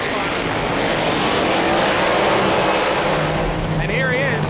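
At an old-time drag racing meet at Englishtown Raceway Park, a hot rod drag car roars past in a semifinal run, a loud sustained engine rumble mixed with crowd noise, while an announcer talks over it.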